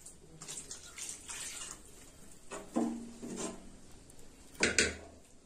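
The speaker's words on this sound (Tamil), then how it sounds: "இன்னும் கொஞ்சம் குக்கர்ல தண்ணி ஊத்தி" Water splashes into a pressure cooker of drumstick and brinjal sambar in a home kitchen, a few soft pours and sloshes with light metallic clinks, fairly quiet and close.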